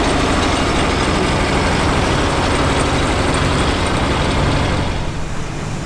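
A V8 engine on an International Harvester tractor runs at a steady, loud, heavy rumble from start to finish without a break.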